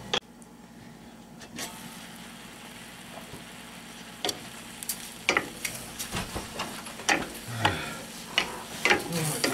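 Garlic cooking in a pan for a Cajun chicken and green beans dish, a soft steady sizzle broken by repeated scraping stirs that grow busier toward the end, close and without talk.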